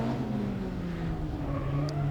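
A blue kit car racing around a figure-of-8 grass track, its engine droning steadily at close range with a sustained whirring tone and slight pitch shifts as it drives on.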